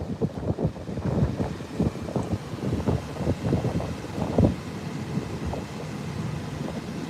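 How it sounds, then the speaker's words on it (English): Muffled, low gusts of wind buffet a truck parked on a windy beach at Padre Island, Texas, rumbling in uneven bursts before settling into a quieter, steady rush. "there's not so much wind noise because it's pretty windy out there"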